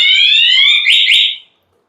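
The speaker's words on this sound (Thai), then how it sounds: "มีใครมางัดตู้นะครับ สัญญาณจะดังแบบนี้นะครับ" A coin exchange machine's tamper alarm sounds one loud electronic siren tone, steady and then warbling twice before stopping abruptly, followed by silence.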